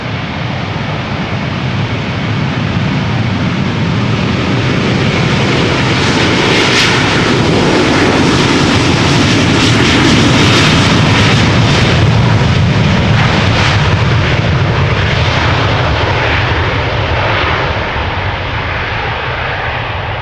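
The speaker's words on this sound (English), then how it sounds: "KLM A330-300 to Houston, Texas. KLM flight 661." A KLM Airbus A330-300 jet takes off at Amsterdam Schiphol, a loud, close, continuous engine roar that swells to a peak midway and stays powerful throughout, with no voices.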